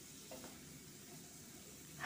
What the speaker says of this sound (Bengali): এর মধ্যে লবণ হলুদ দিয়ে মাখিয়ে রাখা আলুগুলো দিয়ে দিলাম। এটা নেড়ে চেড়ে ভেজে নেব,